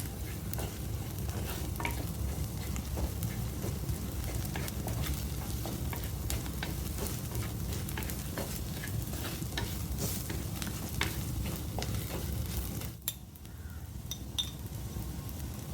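Chilli, pepper and coriander powders being stirred into a sizzling pan for a pallathi fish coconut-milk curry, a spoon scraping in steady, busy strokes over constant frying hiss, then a brief quieter pause near the end.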